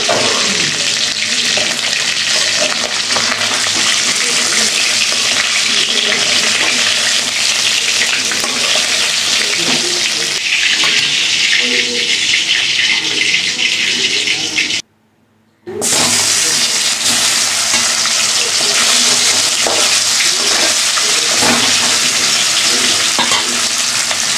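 Pieces of boal fish sizzling loudly in a spicy paste, a constant close frying hiss with stirring scrapes and a brief silent gap.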